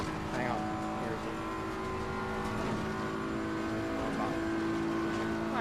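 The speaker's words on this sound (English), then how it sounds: "The Bentley sounds insane." Bentley race car in the Assetto Corsa Competizione racing game during a Nordschleife 24-hour endurance race, its engine droning steadily and loudly throughout with rising and falling revs, under a faint background of other noise.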